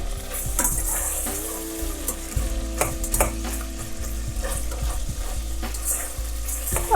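Onions sizzle steadily in a hot pan over high heat while a utensil stirs and scrapes, with occasional clinks of metal against the pan; no one speaks.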